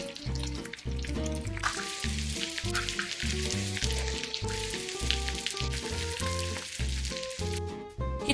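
Pork sisig with an egg sizzling on a hot plate, loud and close, a continuous spitting fry that carries through nearly the whole stretch, with no talking.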